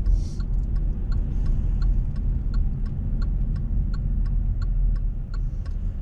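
Car left-turn signal ticking in an even, steady rhythm, roughly two clicks per second, clear over the low hum of the engine and road noise inside the cabin.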